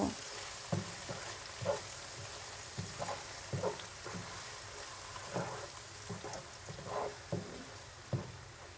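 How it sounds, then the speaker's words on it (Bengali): Onion paste with nuts, ginger and garlic being stir-fried for chicken rezala, a steady soft sizzle broken by regular scraping strokes of a spoon against the pan, close and moderately quiet, with no talking. "এখন আমি পেঁয়াজ বাটা, বাদাম, আদা, রসুন সবগুলো একসাথে দিয়ে একটু পেঁয়াজের সাথে একটু মিশিয়ে নিব।"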